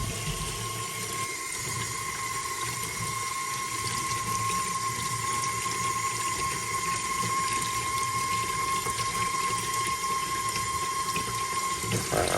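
Steady running water from a tap, a continuous close hiss with a faint tonal hum underneath, no talking.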